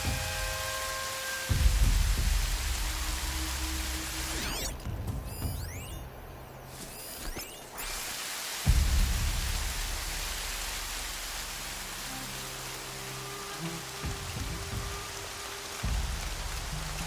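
Steady rain hisses across the ground in a video game, with low thunder rumbles swelling in the distance and a brief burst of harsher noise midway, no voices over it.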